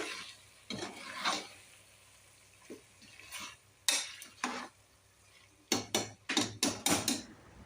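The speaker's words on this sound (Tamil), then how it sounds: "அதையும் நல்லா கிளறி விடலாம்" A spoon scrapes and clanks against a metal pot of chicken masala in short, irregular bursts, with quick clusters of stirring strokes near the end.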